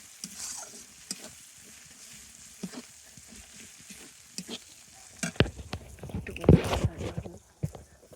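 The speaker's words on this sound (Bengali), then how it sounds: "মশলাটা একটু ভাজা হোক" Spice paste of ginger and turmeric frying in a pan, a soft sizzle with scattered stirring clicks and scrapes that grow louder and busier toward the end, with no voices.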